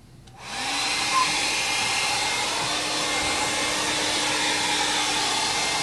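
A hair dryer switches on and then blows at a steady, loud whirring roar that holds evenly for several seconds, close by.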